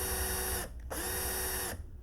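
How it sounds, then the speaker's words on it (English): A power drill bores into the body post of a 1967 Volkswagen during a restoration, whining steadily in two bursts separated by a short pause, loud and close. "just to drill deep enough to serve me as a guide for the bigger drill bit"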